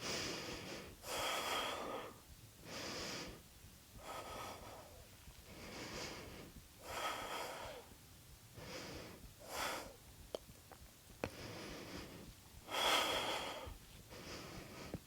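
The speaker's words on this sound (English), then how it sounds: "As you can hear from my breathing, this takes your breathing into a totally different place with the front of the chest being so open." Heavy, rhythmic breathing during an advanced yoga backbend flow: close, audible inhales and exhales come in a series of strong bursts about every second or two, with no talking over them.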